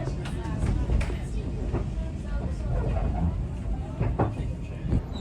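A Welsh Highland Railway steam train runs through Snowdonia, heard from on board as a loud, close, continuous rumble of rolling carriages and wheels, with a dense low roar and scattered rattles.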